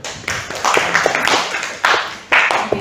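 Audience applause at a sales and closing talk: scattered clapping of moderate loudness over about three seconds, with a couple of sharper surges.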